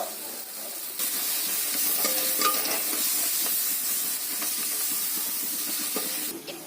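Spiced pointed gourd (patol) sautés in a pan with a continuous frying hiss. A spoon scrapes and stirs through it. Faint clinks come through the steady sizzle, with no talking.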